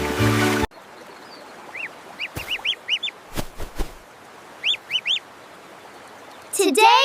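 Little cartoon ducks give short, bright quacking calls in two quick bursts of three or four, set against a soft background and bracketed by louder music at the start and end.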